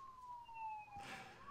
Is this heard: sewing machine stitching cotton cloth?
no